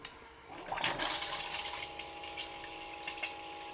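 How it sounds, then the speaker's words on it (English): Water rushes steadily through a gold prospecting sluice as the flow is turned on, a continuous splashing wash that swells after the first second and runs on, with a faint constant hum underneath. "So let's fire this sluice up."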